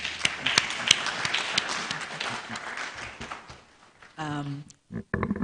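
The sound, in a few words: round of applause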